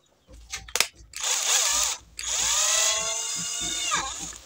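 A power drill whirs in two loud bursts while fitting a tubeless tire valve, its motor pitch shifting as it spins up and slows, after a few clicks and handling sounds.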